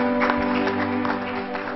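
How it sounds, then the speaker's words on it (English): Hands clapping in a Pentecostal church congregation, steady broadband patter with faint rhythmic accents over a sustained low organ or keyboard tone, moderately loud and continuous throughout. "Give the Lord a hand clap."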